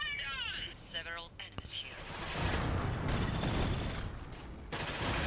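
Gunfire in the video game Iron Harvest, rapid crackling volleys and bursts with mechanical clanks, under and between faint voices.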